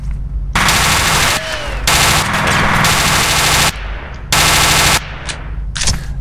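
Automatic gunfire rattles in the video game F.E.A.R. during a firefight, with long, loud sustained bursts broken by short gaps and a few lighter sounds near the end.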